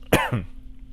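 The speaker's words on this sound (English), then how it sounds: "I almost just coughed all over the place" A single sharp cough in two quick bursts, close and fairly loud, followed by quiet room tone with a faint steady hum.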